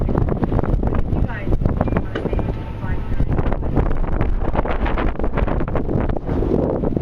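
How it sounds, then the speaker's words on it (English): Heavy wind buffets the microphone in a constant low rumble while someone speaks over the gusts. "Oh, it's starting to get windy"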